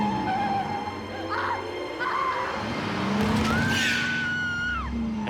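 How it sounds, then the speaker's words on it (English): A car turns and skids on the road, with a rising tire squeal over engine noise and scattered background sounds, fairly close and loud, with no talk. "As Clara turns the car."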